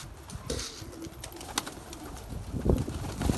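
Soft cooing of pigeons mixes with background noise and faint flutters, the low calls repeating near the end over a steady ambient hiss.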